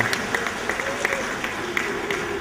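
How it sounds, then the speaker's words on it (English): Applause for a Rotary district governor at a district governor's banquet: steady, dense clapping from a seated crowd throughout, with scattered sharper claps standing out. "give her a round of applause"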